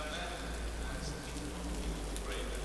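Steady rain ambience from the ACC GT3 racing game at Suzuka, a dense, even hiss of drops on surfaces with a low rumble underneath, continuous and moderately quiet throughout.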